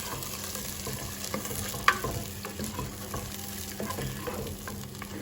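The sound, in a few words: stirring chopped tomatoes into garden egg stew in a pot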